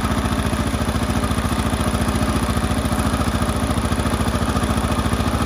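A motorcycle engine idles steadily around 1200 RPM at a low, even throb, close up and unchanging throughout.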